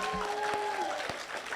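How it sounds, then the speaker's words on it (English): An audience at an awards and induction ceremony gives a round of applause, a soft, distant patter of clapping with a few tonal voice-like traces mixed in. "Let's give yourselves a round clap."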